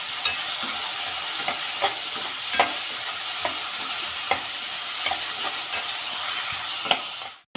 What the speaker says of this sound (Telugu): ఒక పెద్ద టమాటా సన్నగా తరిగి పెట్టుకున్నాము, అది కూడా వేసేద్దాము.